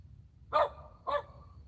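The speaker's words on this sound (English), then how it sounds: "Y'all hear my dog." A dog barks twice, a short pair of barks with a pause between, heard at moderate distance outdoors in a garden over a low steady background rumble.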